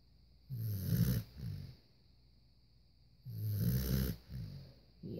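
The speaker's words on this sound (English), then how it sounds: "Yes, he's a snorer, but he's worth it." A dog snoring in bed nearby, two slow rhythmic cycles of rough, rasping inhales, each followed by a shorter breathy exhale and a quiet pause, close and fairly soft.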